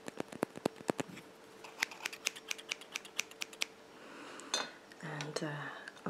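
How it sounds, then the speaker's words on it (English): Scissors handled for an ASMR haircut, a series of sharp close metallic clicks and snips in an irregular rhythm, followed by softer rustling and handling sounds, quiet and intimate. "And of course I have my scissors."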